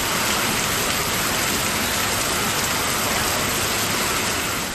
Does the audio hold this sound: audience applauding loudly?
no